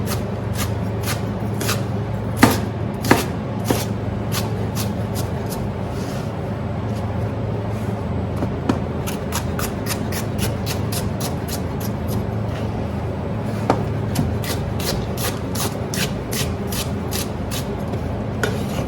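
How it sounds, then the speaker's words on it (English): A knife shredding cabbage into thin slices on a cutting board while cooking a tofu noodle stir-fry, crisp repeated cuts in quick irregular bursts over a low background hum. "now I'm just going to shred this cabbage up into thin slices"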